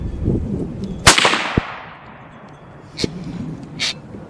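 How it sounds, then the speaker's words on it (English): A CZ 527 bolt-action rifle in 7.62x39 fires a single sharp, loud shot at a steel plate on a windy range, followed shortly by a faint metallic ping of the hit and brief handling noises. "Shoot this plate here and see what happens."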